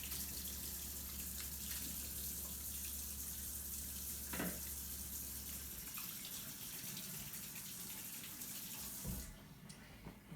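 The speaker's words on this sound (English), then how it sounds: "I'm gonna wash my hands off." Running tap water pours steadily into a sink as hands are washed in a home kitchen, a continuous close hiss that thins and stops near the end, with no talking.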